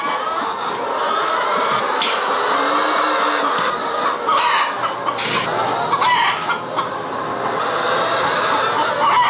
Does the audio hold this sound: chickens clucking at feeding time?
yes